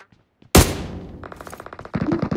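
A shooting video game erupts in a loud gunshot followed by rapid bursts of automatic fire, close and punchy, with a second volley at the end.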